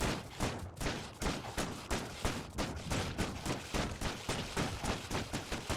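Rapid, steady bursts of gunfire from gun turrets in the video game Factorio, dense and continuous with a regular rhythm throughout, loud and unbroken with no talk.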